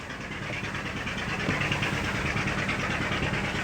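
A single engine of a boat idles close by, a steady low, continuous droning rumble with a faint mechanical rattle and no other sounds.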